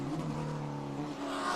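A Trans Am TA2 race car at Barber Motorsports Park, a sustained engine roar at high revs with a slight pitch wobble, brief and steady with no voices.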